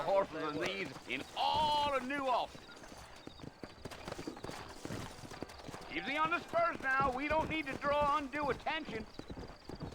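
Horse hooves clip-clop at a steady riding pace in Red Dead Redemption, with a person speaking in two long stretches over the rhythmic steps.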